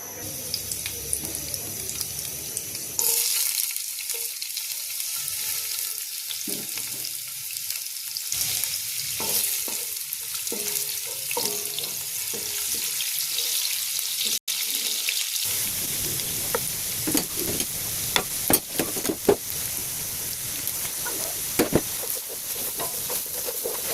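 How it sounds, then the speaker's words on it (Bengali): Chopped onion and ginger fry in hot oil in a pan for a vegetable curry, a steady hiss with crackling pops that grow sharper and more frequent toward the end, with no talking. "তেলটা গরম হলে আমি পেঁয়াজ আদা দিয়ে দিচ্ছি"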